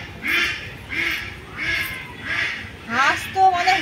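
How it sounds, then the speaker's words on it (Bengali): Ducks quack loudly and close by in a steady run of about five nasal calls, evenly spaced, with a faster burst of quacking at the end. "হাঁস তো, মানে হনুমান হাঁস তো প্রচুর চকার করে"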